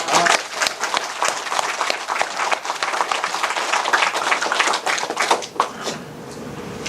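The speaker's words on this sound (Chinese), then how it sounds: "我们给自己来一次掌声" Audience of teachers at a training session giving themselves a round of applause, dense close clapping from many hands that fades away near the end.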